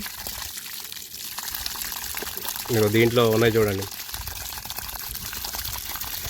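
Motor-pumped irrigation water flows through a maize field as a steady broadband rush, with someone talking briefly over it in the middle.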